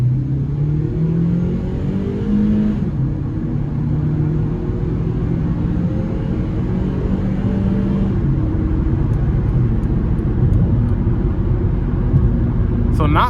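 A 2007 Honda Civic LX accelerating hard at full throttle on a test drive, heard from inside the cabin: a loud, steady engine drone rises in pitch through the gears, with a noticeable vibration and road rumble underneath.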